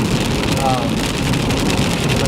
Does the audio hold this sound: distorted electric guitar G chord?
no